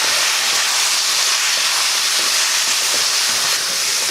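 Cooked mutton and masala sautéing in a pan, a dense, even hiss of frying that holds steady and fairly loud throughout, with faint stirring taps and no voices.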